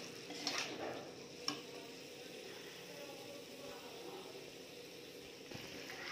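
Shahi paneer masala is stirred in a pan, with soft, faint scraping and gentle sizzling throughout and a couple of light clicks of the spoon against the pan.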